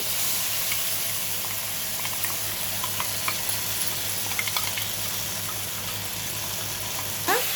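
Ground paste for a Bangala dumpalu curry hitting a hot pan, a steady soft sizzle with scattered crackles and a stirring scrape, heard close with no talking.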